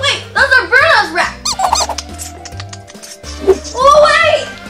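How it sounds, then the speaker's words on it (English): Cartoon rats squeaking in a bedroom, a few high chirping squeaks in short bursts mixed with voices and music underneath. "Rats! Jumping on your bed!"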